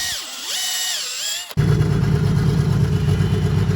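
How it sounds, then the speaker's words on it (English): An electric drill bores out the aluminium threads in a Mercedes OM606 diesel engine during a Land Rover Defender swap. A close whine shifts pitch for about a second and a half, then a loud, steady, rough grinding roar takes over. "You can see I've drilled away the area where the threads are."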